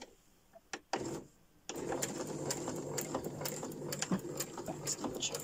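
A sewing machine stitches decorative trim on a snippet trim base, a steady mechanical whir that runs continuously after a couple of brief clicks and a pause, with faint sharper taps scattered through.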